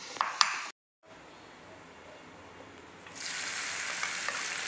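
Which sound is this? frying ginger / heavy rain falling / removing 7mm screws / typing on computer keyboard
frying ginger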